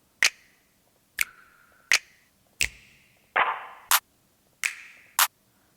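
Clap drum sample triggered while a beat is built, six sharp, bright hits in an uneven pattern, some dry and some trailing a short reverb-like wash, loud and close with nothing else around them.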